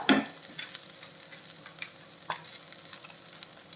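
Ground spice mix being stirred into ivy gourd frying in a pan, with a soft continuous sizzle, a sharp scrape at the start and a few faint scraping taps afterwards.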